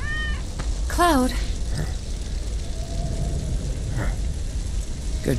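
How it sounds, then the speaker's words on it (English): A cat meows in the video game Final Fantasy VII Remake, one clear, fairly close rising-falling meow followed by fainter cries, over steady background noise. "Good kitty."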